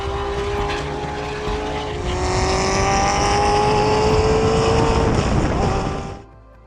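Chevrolet Corvette C6 on a race track climbing uphill through a series of corners, its loud engine note rising steadily through the gears with a strong continuous roar before dropping away abruptly at the end.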